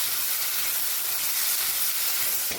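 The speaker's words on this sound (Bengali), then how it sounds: "আলুগুলোকে ঠিক এইরকম আমি লাল লাল করে ভেজে নিচ্ছি" Potatoes seasoned with salt and turmeric frying in a pan until reddish, a steady, close, dense sizzle and hiss running throughout without pause, no voices.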